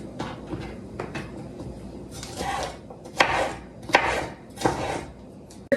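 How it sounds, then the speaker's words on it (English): A knife chopping onion on a cutting board while preparing a tofu scramble, a few sparse soft taps followed by several louder distinct chops with brief pauses between, fairly close and with no talking. "You're going to want to chop up 1/4 of an onion as well."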